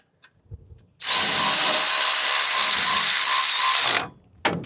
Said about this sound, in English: why make this hard on ourselves? Use the old Milwaukee.